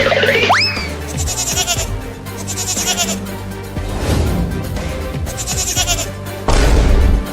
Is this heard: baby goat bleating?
yes